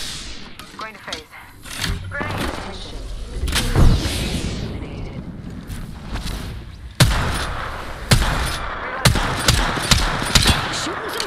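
Bursts of gunfire and impacts from the video game Apex Legends, a Season 8 duos match at Estates, crackling in rapid irregular volleys with sharp loud onsets, mixed with game sounds and voices throughout.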